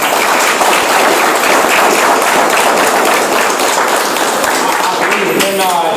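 An audience at a school signing day event applauds, a dense sustained wash of clapping filling the room loudly from start to finish, with a voice faintly audible near the end.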